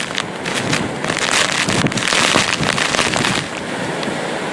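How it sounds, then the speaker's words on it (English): Hurricane Irma's eyewall winds roar in Naples, Florida, near the Gulf coast, as a loud, constant gusting rush batters the microphone with bursts of what sounds like driven rain. "The wind is definitely stinging us."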